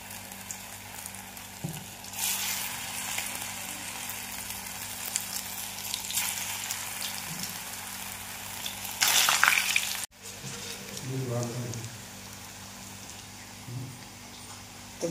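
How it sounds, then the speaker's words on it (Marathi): Colocasia-leaf aloo vadi frying in hot oil, a steady close sizzle and crackle that swells briefly louder before cutting out, then sputtering on with faint clinks. "आता मी तेल गरम करायला ठेवलाय."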